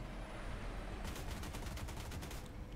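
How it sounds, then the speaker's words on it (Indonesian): Cannon fire from an Abrams tank shooting at aircraft in the video game MWT: Tank Battle, a rapid string of sharp bursts that starts partway through and sounds like gunfire layered over a constant low engine rumble. "Ini kita bisa lihat meriam dari Abrams itu nembakin pesawatnya."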